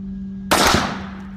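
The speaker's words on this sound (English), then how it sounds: "This is going to be a cold bore shot" A single loud rifle shot fired cold bore at a shooting range, a sharp blast with a short ringing decay over a steady background hum.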